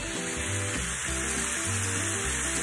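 Garlic sizzles in a frying pan with cooked chicken and salt, a constant close crackling fry with faint low stirring thumps underneath and no voices.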